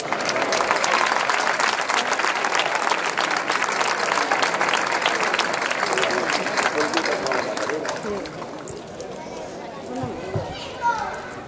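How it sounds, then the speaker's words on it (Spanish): An outdoor crowd at a village folklore night on a municipal track gives a councillor a strong round of applause, sustained dense clapping mixed with children's voices and crowd chatter, fading into murmuring. "Un fuerte aplauso para él."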